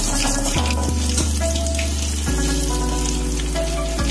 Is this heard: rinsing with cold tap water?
yes